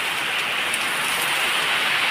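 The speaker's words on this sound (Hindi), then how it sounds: "देखिए बारिश का मज़ा ले रहा है भाई" Rain falling on a farm, a dense, even hiss of downpour filling the whole moment, loud and close, with no voices.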